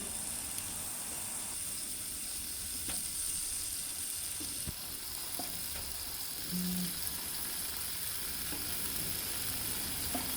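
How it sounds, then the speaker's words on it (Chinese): Steady, dense sizzling of shiitake mushrooms frying in hot oil in a pan, with a few light clinks and stirring scrapes over the constant crackle. "浇上一层油，把提前准备好的香菇平整地摆上去"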